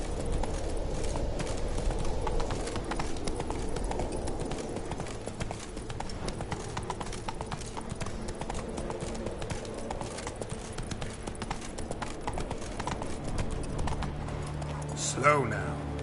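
Roach, the horse in The Witcher 3, gallops in a steady, rapid clip-clop of hooves under constant talk, with a brief sharp accent near the end.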